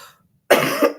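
A single harsh cough bursts out after a moment of silence, close and fairly loud, with a second cough starting just as it ends, from someone in a work meeting.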